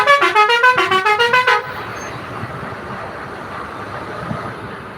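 A road traffic jam, heard from a stopped bus: a rapid run of about nine loud horn blasts, then a steady rumble of idling engines and road noise.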